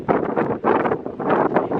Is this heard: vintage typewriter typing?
no